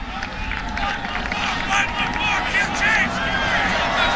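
Roaring football stadium crowd at a Kansas State home game against Baylor, a dense sustained wall of cheering and shouting that swells slightly across the moment, loud and continuous with no single voice standing out.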